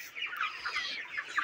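A flock of month-old broiler chickens, each over two kilograms, on a poultry farm keeps up a steady, moderately distant chorus of overlapping clucks and chirps with no talking.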